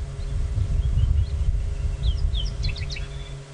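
Francolins call in short bright bursts over a steady low rumble, with calls growing busier toward the end and some sounding a little distant, on an evening safari drive.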